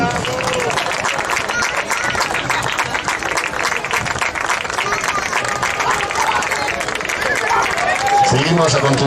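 A crowd at a handball beach tournament trophy presentation in Moaña claps loudly and continuously, dense applause filling the whole stretch with a murmur of voices and a few shouts mixed in.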